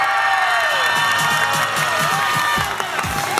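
A studio audience on a game show cheers and claps for a contestant, a dense burst of crowd applause with a loud musical tone running underneath.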